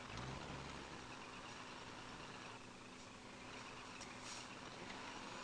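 A truck engine idles in the Euro Truck Simulator 2 driving game, a steady, fairly quiet low drone with no talking over it.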